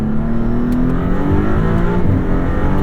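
A 2022 Maserati MC20 engine holds a steady, loud drone under acceleration, its tone rising gradually throughout, heard from inside the car with no talking.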